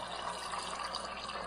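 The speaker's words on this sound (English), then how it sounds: "We fill up at the fridge for drinking water." Drinking water runs from a fridge dispenser in a steady, close, continuous stream for about a second and a half, a soft hissing pour with no voices.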